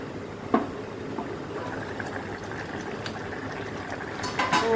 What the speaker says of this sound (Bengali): সেদ্ধ হতে দেবো।